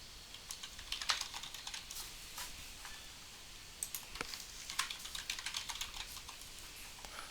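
Rapid, uneven keystrokes on a computer keyboard as a password is entered, close and clear in a quiet room, with short pauses between bursts of clicking.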